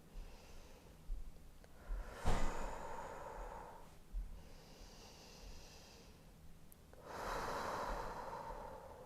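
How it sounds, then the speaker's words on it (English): Slow, deep breathing during a beginner yoga flow, with about three long audible inhales and exhales, soft and close, with no talk over them. "take 3 more breaths here"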